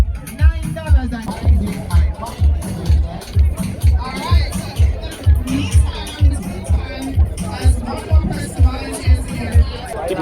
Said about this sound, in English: it's a mad crowd over here now